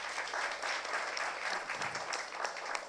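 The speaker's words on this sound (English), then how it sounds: "And if we can have a round of applause for our terrific panel" Steady applause from the audience at a cybersecurity forum as the panel finishes, a dense, even wash of clapping heard from a distance at moderate volume, with no speech over it.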